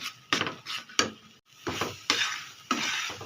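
Carrot halwa stirred steadily in a pan, a spoon scraping and clinking against the metal in a series of short, fairly close strokes, with soft sizzling between them.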